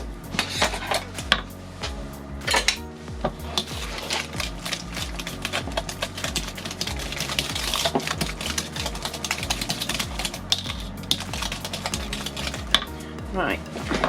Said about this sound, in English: now I'm gonna switch to a whisk